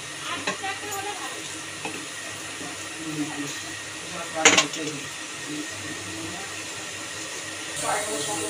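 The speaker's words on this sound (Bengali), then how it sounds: "ঝোলটা ফুটতে শুরু করেছে।" Kofta curry broth for Bengali raw banana kofta simmering in a pot, a steady low bubbling hiss with soft stirring clinks and one brief sharper clatter midway.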